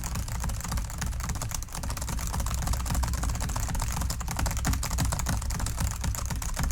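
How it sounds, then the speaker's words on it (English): Rapid typing on a computer keyboard, a dense, continuous patter of close key clicks with no pauses and no voices. "I'm just going to start typing my story"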